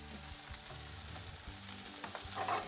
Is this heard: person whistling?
no